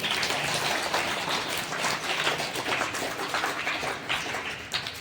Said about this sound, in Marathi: त्या गावकऱ्यांसाठी एकदा जोरदार टाळ्या वाजवा